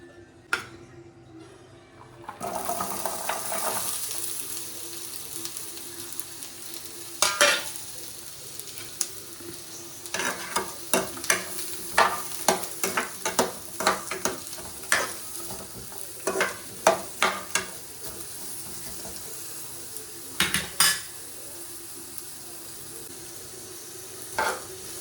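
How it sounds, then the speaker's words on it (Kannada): Onion and garlic sizzle in about two spoons of oil in a pan, a soft steady frying hiss broken by repeated sharp clicks and scrapes of stirring, close and quiet, with no talking. "ಈಗ ಇದಕ್ಕೆ ಆನಿಯನ್ ಮತ್ತು ಬೆಳ್ಳುಳ್ಳಿ ಹಾಕ್ಕೊಳ್ಬೇಕು."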